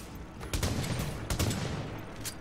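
A few sharp, loud gunshots in The Division shooter game, two or three distinct cracks spaced apart over a low rumbling game background.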